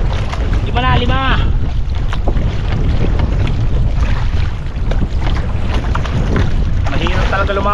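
Strong wind buffets a small boat at sea while hunting lobster, a constant loud roar of wind noise and water, with a voice talking briefly over it.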